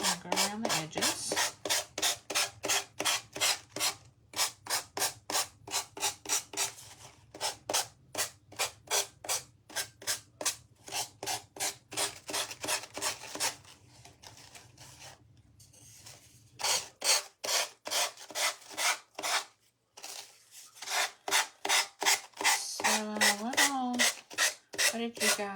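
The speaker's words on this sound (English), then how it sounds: "Grab my little gator sander here." Small gator sander working around the edges of a wooden bunny kit, a close rhythmic series of rapid rasping strokes in bursts with short pauses.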